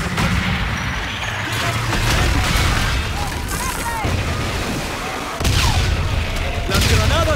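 Grenade blasts and bursts of gunfire from the Call of Duty: Infinite Warfare video game, loud and continuous with heavy low booms and rattling shots, with a voice talking over the action.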